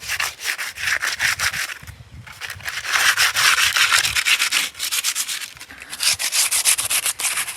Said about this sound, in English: It looks very, very real when you sand it.